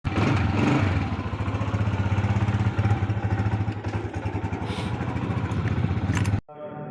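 A motorcycle engine revs and pulls away, a strong, close, throbbing drone that eases slightly as it moves off, then cuts out abruptly near the end.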